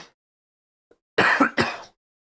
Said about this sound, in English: Again, sorry for the cough.